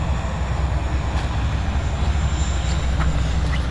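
An FMS F-86 Sabre RC model jet takes off from a runway, its steady, loud, broadband rushing roar holding constant from start to end.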